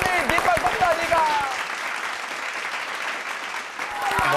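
An audience at a Holi comic poetry gathering applauds to welcome a poet: dense clapping with voices over it at the start, then a gradually fading wash of applause that swells again at the end.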